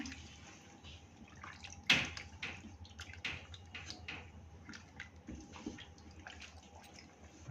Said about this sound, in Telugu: నేను రైస్ వాటర్లో అయితే మటన్ క్లీన్ చేసుకుంటున్నాను